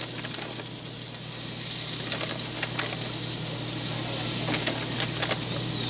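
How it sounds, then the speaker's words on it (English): Shrimp in their shells grilling on a Ninja Foodi indoor grill give off a continuous close sizzle and hiss, dotted with small pops and crackles, with no voices. "grill them up until these guys are pink on the outside on the shells and the meat is opaque"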